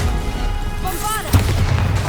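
The Bombarda spell in Hogwarts Legacy fires with a whooshing build and then a sudden deep blast, heavy and close, following a spoken incantation.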